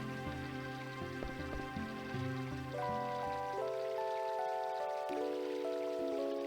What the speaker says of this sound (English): That waterfall's so soothing.